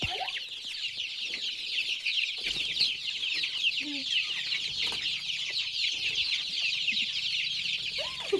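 Native village chickens cluck softly and steadily at close range, a low scattered chorus of short calls running through the whole stretch.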